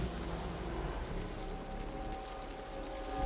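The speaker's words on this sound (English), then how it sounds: "The rain's getting heavier." Steady rain in the video game Wuthering Waves, a dense continuous hiss of falling water holding even and fairly loud throughout, with a faint low rumble underneath and no voices.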